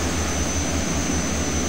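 A Twin Otter amphibious plane's propeller engines in Microsoft Flight Simulator give a steady, loud, unbroken drone with a low throbbing hum, running alone for a moment.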